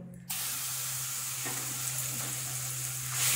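Garlic paste hits hot mustard oil in a kadai for a Bengali garlic chutney with a sudden loud sizzle after a brief quiet moment, then keeps frying with a steady hiss.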